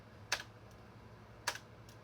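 An Apple ADB keyboard gives two sharp, isolated key presses about a second apart, each followed by a faint release click, close and quiet over a low steady hum from a PowerMac G3.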